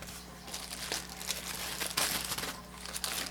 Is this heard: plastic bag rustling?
yes